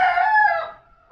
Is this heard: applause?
no